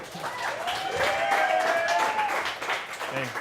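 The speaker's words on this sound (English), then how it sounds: "Big round of applause for Joe Kornelsen." An audience applauds a guest at an interview event in the West End, with clapping under a bright whooping voice and some talk, moderately close and fairly quiet overall.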